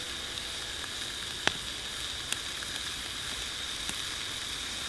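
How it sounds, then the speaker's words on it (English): Soft, steady sizzling hiss of burgers cooking over a campfire in the woods, with occasional faint pops and crackles, fairly quiet and uninterrupted, no one speaking. "Well, that's a nice sizzle, isn't it?"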